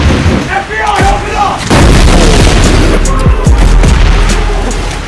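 In the video game PUBG Mobile, a shot fired through a window comes amid loud, booming gunfire, with several sharp, reverberant reports in quick succession over a rumbling background.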